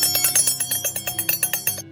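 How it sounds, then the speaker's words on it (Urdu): Bells tied around an ox's neck jingle in a rapid, regular rhythm of bright metallic strikes, close and fairly loud, stopping abruptly near the end. "یہ اس کے بیل کی گھنٹیاں ہیں جو اس کے گلے میں بندھی ہوئی ہیں۔"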